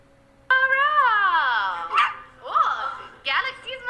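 A dog, Galaxy, lets out a loud, drawn-out howling yowl followed by a couple of shorter barking yips, close and expressive, with no speech.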